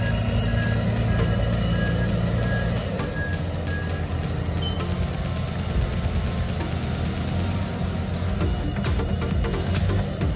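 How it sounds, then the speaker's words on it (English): A concrete mixer truck runs with a steady, loud diesel rumble, and a regular reversing beep repeats during the first few seconds. The engine drone continues unbroken throughout, with no talking. "A concrete mixer truck is a type of vehicle used to transport concrete from concrete mixing plants"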